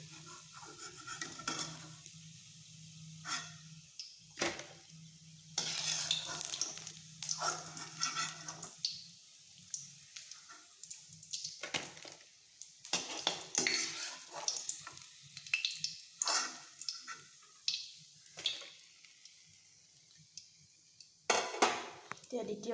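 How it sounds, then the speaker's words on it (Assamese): Jatilao pitha rice cakes fry in a pan on a low flame, a soft steady sizzle broken by repeated sharp clatters of a utensil against the pan, close and intermittent. "এতিয়া ল' ফ্লেমত ৰাখি দুয়োপিঠি ৰঙচুৱা হোৱালৈকে ভালদৰে ভাজি ল'ম"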